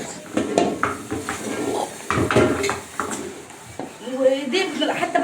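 Pots and pans scrubbed by hand in a home kitchen, with scattered clanks and scraping knocks of metal cookware, under steady Egyptian Arabic speech from someone talking throughout.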